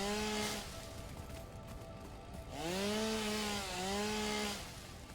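A chainsaw in the video game Satisfactory cutting down trees: a loud droning engine with two sustained high-revving bursts separated by a quieter idling stretch, no talking.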